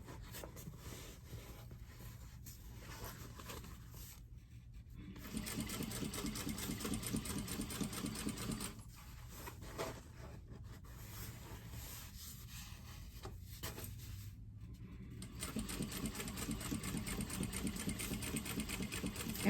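A sewing machine back-stitches a tote bag seam in a long, steady mechanical whir that pauses briefly twice and then resumes, close and fairly quiet.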